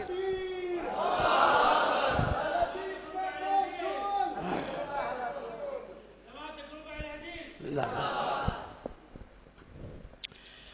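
A gathered crowd at a religious speech roars back a Nara-e-Takbeer slogan in repeated loud collective shouts, swelling and fading in waves with a voice leading between them.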